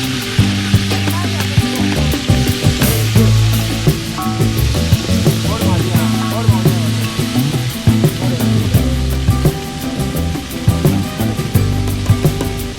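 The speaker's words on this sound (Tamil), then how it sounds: "கடுகு பொரிஞ்சதுக்கு அப்புறம் வெட்டி வச்ச வெங்காயம், தக்காளி, பச்சை மிளகாய் இதெல்லாம் போட்டு அதை வதக்கி விடணும்." Mustard seeds, chopped onions, tomatoes and green chillies fry in hot oil in a roadside cooking setup, a steady loud sizzle and crackle with scattered pops and clanks, while people talk over it.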